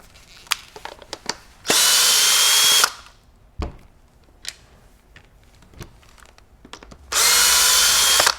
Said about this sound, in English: There's 2 more Phillips head screws to remove the progressive comfort assembly.